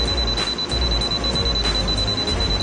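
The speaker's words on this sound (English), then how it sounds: "Recognition of the zero live wire, the live wire will beep quickly, and the LED light is red." ANENG 619A digital multimeter beeping rapidly as it senses a live wire: a steady high electronic tone with faint repeating pulses over a low background hum, no voices.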